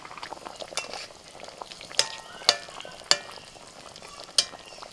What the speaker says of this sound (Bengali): মশলা ফুটে গেছে লেজা মুড়ো দিয়ে দিয়েছি এবার পেটিগুলো সব দিয়ে দিচ্ছি